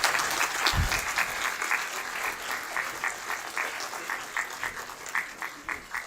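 An audience at a book release event claps steadily, a dense, continuous patter of many hands, with rhythmic pulses emerging toward the end as the applause settles into a beat.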